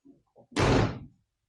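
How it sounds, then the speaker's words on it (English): A 1993 Chevy K1500 pickup door, refitted with new door pins and hardware, shuts with one solid, close thunk after a few faint handling clicks, then silence. "That's probably the best that door has ever closed the entire time I've owned this truck."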